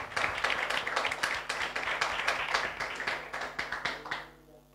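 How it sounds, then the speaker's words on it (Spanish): A church congregation claps during a worship service, with dense, steady clapping mixed with a few sharper taps that fade out near the end. "Un aplauso al Señor, vamos."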